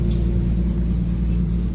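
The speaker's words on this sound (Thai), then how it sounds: "เสียงจะมีรถบรรทุกผ่านนะครับ" A truck rolls by along a canal roadside in Thailand, giving a continuous, moderately loud low rumble of engine and tyres with no talking.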